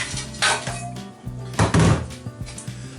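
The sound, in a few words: dishes being handled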